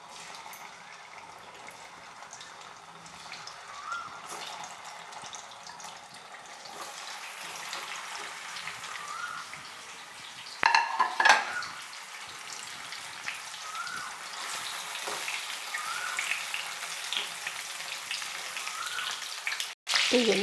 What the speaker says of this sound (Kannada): ಈಗ ಎಣ್ಣೆ ಬಿಸಿ ಆದಮೇಲೆ ಈ ಬದನೆಕಾಯಿನ ಡೈರೆಕ್ಟಾಗಿ ಈ ಥರ ಸೇರಿಸ್ಬೇಕು ಎಣ್ಣೆಗೆ